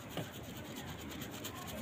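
Shampooed hair being scrubbed by hand during a wash after a rice treatment, a steady close rubbing and rasping that continues without pause and without any voices.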